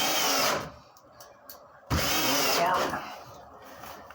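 A power drill drives screws into the flanges of a washing machine drain box, giving two short loud whirring bursts about a second apart, each winding down quickly, up close with quiet gaps between.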